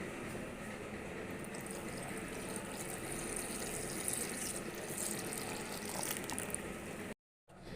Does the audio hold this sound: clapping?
no